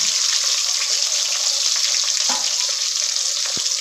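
Onions, tomato and ginger-garlic paste fry in a pan for chicken biryani, giving a loud, steady broadband sizzle with a couple of brief stirring clicks, no talk.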